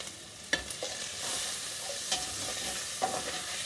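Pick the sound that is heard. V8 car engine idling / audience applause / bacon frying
bacon frying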